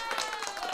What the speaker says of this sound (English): The applause button.